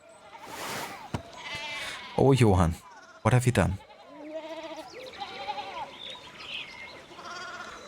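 Sheep bleating in the video game Pentiment, a few wavering animal calls heard in the middle, with a voice speaking at the start and game sounds continuing afterward.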